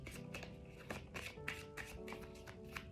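Tarot cards shuffled by hand, quiet rapid riffling and soft card taps repeating in quick bursts, close and faint.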